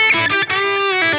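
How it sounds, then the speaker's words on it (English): Electric guitar run through a Line 6 Helix with a subtle delay, a sustained distorted chord ringing for about a second with faint repeats trailing behind. "The delay."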